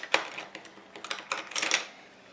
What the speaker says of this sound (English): So now we're going to take off this tear tape